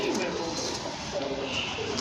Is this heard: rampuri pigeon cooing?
yes